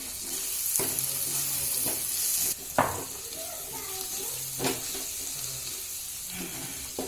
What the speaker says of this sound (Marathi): आता आपण व्यवस्थित परत मिक्स करून घेऊ।